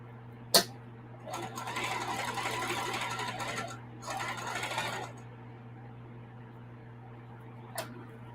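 Sewing machine stitching an appliqué quilt, running in two steady bursts of close, even mechanical whir separated by a short pause, with a sharp click at the start and a faint tap near the end over a constant low hum.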